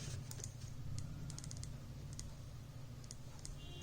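Values are keyed into a computer on a keyboard: light scattered keystrokes, some in quick clusters, over a steady low electrical hum.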